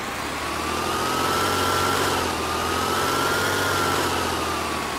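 A small tractor engine in the Farming Simulator 19 game runs at a steady high-revving drone, holding a constant pitch with a slight rise and fall, loud and alone without speech.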